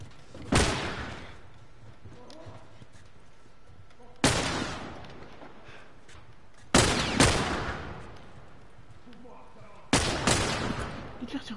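Four loud bursts of gunfire from The Last of Us, each a sharp blast followed by a short decaying tail, spaced a few seconds apart with quiet game ambience between.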